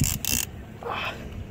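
A fishing reel cranked hard while fighting a saltwater fish, giving a short burst of ratcheting, whirring mechanical clicks up close.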